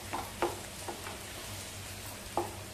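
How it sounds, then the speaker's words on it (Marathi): Mashed potato and crushed green chili thecha being sautéed in a pan for fasting batata vada, with a soft background sizzle and a few scraping stirs of the spatula at uneven intervals. "आता चांगला आपण परतवूया."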